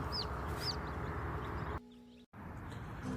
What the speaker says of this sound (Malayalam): കോഴിക്കുഞ്ഞുങ്ങളൊക്കെ വളരെ ഉഷാറായിട്ടും ആരോഗ്യത്തോടെയും ഒക്കെ ഇരിക്കുന്നുണ്ട്